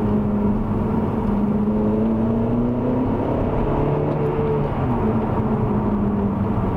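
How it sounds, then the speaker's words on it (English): A car idles with a newly fitted exhaust backbox, giving a steady, close, low burbling drone that runs evenly throughout with no talk over it. "you can hear the burbly sound of the exhaust"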